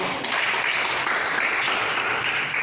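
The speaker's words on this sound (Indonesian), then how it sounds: "Tepuk tangan buat Tuhan" Steady applause from a church congregation during an online Sunday worship service, an even wash of clapping lasting a few seconds.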